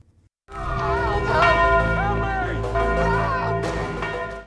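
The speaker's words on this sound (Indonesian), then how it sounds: "Berhasil membunyikan lonceng" A large bell is struck once and rings out loud and close, its bright overtones swelling, wavering and holding for several seconds.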